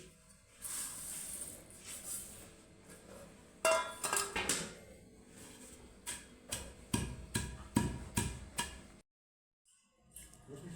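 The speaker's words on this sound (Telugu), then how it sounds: "మసాలాలు రోట్లో దంచుకుంటున్నా పచ్చళ్ళలోకి కలుపుకోవడానికి." Spices pounded by hand in a stone mortar for mutton pickle, heard as a run of sharp, irregular thuds and clacks, close and fairly loud, with a short silent gap near the end before the pounding resumes.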